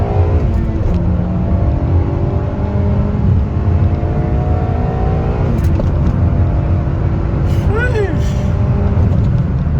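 A Honda Civic Si K-series engine pulls hard through the gears after a clutch adjustment, a loud close sustained roar whose pitch climbs as it revs toward the limiter.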